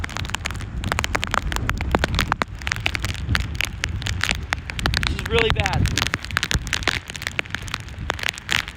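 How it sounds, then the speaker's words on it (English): Hurricane Ian at landfall on the Florida coast drives rain and wind-blown sand in gusty, crackling bursts that pelt surfaces nearby, while someone speaks over the roar. "the sand's being picked up and the rain's being picked up and it hits you like a needle"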